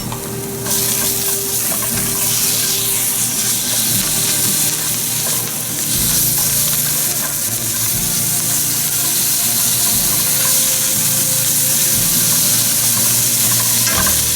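Green curry paste fries in a pot with a loud, steady sizzle and occasional stirring scrapes, close and continuous from start to finish, with no talking.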